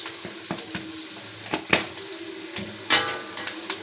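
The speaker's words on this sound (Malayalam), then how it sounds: "എന്നിട്ട് നമുക്കൊന്ന് ഇളക്കാം." Cabbage thoran with curry leaves and turmeric being stirred in a pan, with light frying sizzle and sharp, intermittent clicks and scrapes of the spoon against the pan.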